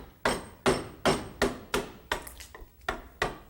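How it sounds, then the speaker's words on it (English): A mallet strikes a tool into a block of wood to split out a piece in woodcarving, about nine sharp, evenly spaced knocks close up, each ringing briefly, with no voice. "See, just a couple of whacks and it splits out."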